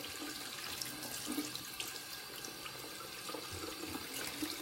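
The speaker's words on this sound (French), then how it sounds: "on rince son pinceau" A paintbrush being rinsed under a running tap, a steady hissing stream of water splashing into a sink with small gurgles, close and continuous, without any talking.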